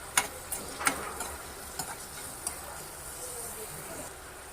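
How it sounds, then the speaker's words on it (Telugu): Thinly sliced onions fry in a pan for a meal maker curry, a steady soft sizzle with a few sharp ticks and clinks early on, close and moderately quiet. "సన్నగా తరిగి పెట్టుకున్న ఆనియన్స్ వేస్తున్నాను"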